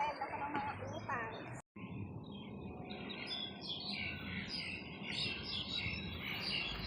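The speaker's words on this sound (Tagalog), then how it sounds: "Maririnig nyo ang huni ng ibon kasi park ito." Birds chirp and tweet in a park garden, with quick, bright calls near the start and then softer, scattered chirps over a faint insect-like hum, fairly quiet throughout.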